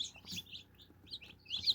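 Newly hatched all-black chicks of a black-meat chicken breed peep in quick, high, close-up bursts at the start and the end, with a quiet gap between.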